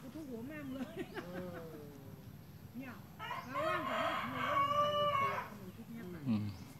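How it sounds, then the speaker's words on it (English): A rooster crows near a park, a drawn-out strained call rising in the middle of the stretch, while someone talks close by before and around it. "you can hear the cock crowing"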